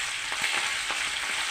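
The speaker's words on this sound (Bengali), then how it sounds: "তেল গরম হয়ে গেছে, আর মাছ দিয়ে" Fish frying in hot oil gives a brief, soft, steady sizzle with a few faint crackles, heard close and on its own.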